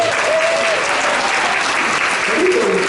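An audience claps steadily for Lena, a volunteer picked from the front row, in a loud, dense burst of applause that fills the whole moment, with a few voices and whoops mixed in.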